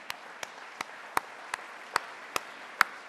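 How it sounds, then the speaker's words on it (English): At an Army birthday ceremony, a single person claps slowly and sharply about eight times at an even pace, with faint room noise between the claps. "Yes, you can clap at that."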